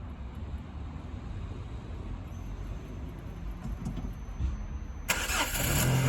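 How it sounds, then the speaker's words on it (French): An old car's engine, used for a budget road rally in France, rumbles and cranks steadily at close range, then catches and starts in a sudden louder burst near the end, with no talk. "Elle démarre au quart de tour cette voiture,"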